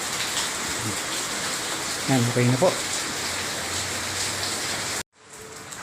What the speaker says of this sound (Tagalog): Maingay po dito doon ang patak ng ulan